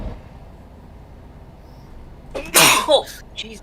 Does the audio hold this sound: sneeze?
yes